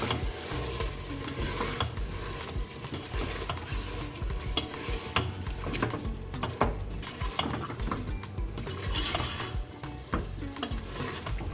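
Mutton with turmeric and spices sizzles steadily in a pot at home while a spoon stirs it, scraping and clinking against the metal. The sound is continuous and close, with no voices.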